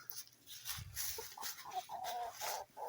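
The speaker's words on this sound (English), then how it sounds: "So this is the first morning being outside chickens." Chickens cluck and call in short bursts from an outdoor aviary on their first morning outside, the sounds fairly close with a few louder tonal calls toward the end.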